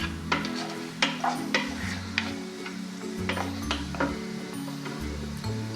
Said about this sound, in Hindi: थोड़ा सा चिकन हमने हल्का सा इसको सिर्फ भूनना है, इसका थोड़ा कलर चेंज हो जाए